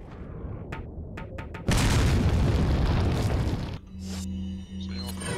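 A grenade explosion in Resident Evil 4 bursts loudly and suddenly, a dense booming roar that holds for about two seconds before cutting to quieter game sounds, with a few brief clicks beforehand.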